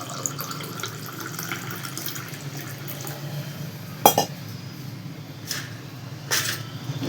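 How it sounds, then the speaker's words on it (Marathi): Cold water from a clay pot pours into a glass for lemon sherbet, a steady splashing trickle with a couple of sharp glassy clinks. "या माठामधलं थंड पाणी याच्यामध्ये ओतायचं."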